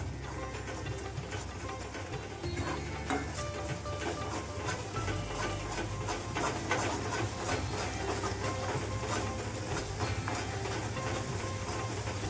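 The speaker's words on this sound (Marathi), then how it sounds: "आता मसाले पण छान परतून घ्यायचे आपल्याला" Spices with turmeric and coriander leaves sizzling and hissing as they sauté in hot oil tempering for misal, a steady crackling fry that runs continuously at moderate level with no talk.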